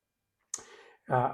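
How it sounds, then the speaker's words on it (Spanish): A single mouse click on a web page link, a short sharp tap with a brief rustling tail, followed a moment later by a voice speaking. "Si le hacemos aquí clic en ver detalle"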